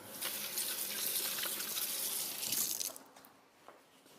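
Hands washed under a running kitchen tap while baking a blueberry and hazelnut tart; steady rushing water splashes loudly for about three seconds, then stops, leaving a few faint drips.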